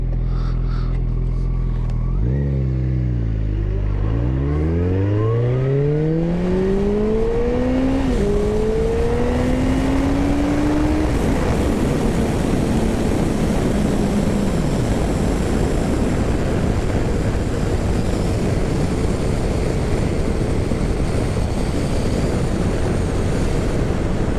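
A Kawasaki Concours 14 motorcycle accelerates along a road through rising engine revs and gear shifts, then settles into a loud, steady roar with heavy wind rush as it cruises.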